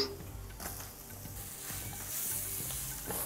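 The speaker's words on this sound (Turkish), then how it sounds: "Baharatlar kavrulurken hemen soğanımızı da ekleyelim." Spices and thickly sliced onion sauté in a hot pan, giving a steady close sizzle with a few scraping stir strokes, no voices over it.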